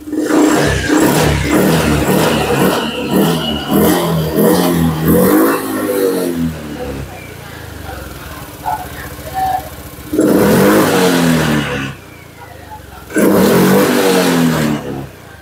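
A Honda fuel-injected motorcycle engine revved up close in three loud bursts of throttle, with quieter idling between them.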